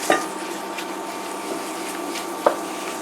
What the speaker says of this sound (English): we'll go ahead and use the same pan to go and brown our sausage